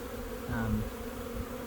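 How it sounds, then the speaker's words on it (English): Honeybees humming in an open hive during a spring inspection, a dense steady buzz close by with one bee briefly droning louder past the frames. "But I'm still getting used to being in this flock of bees."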